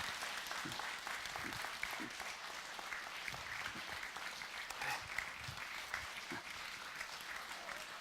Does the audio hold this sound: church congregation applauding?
yes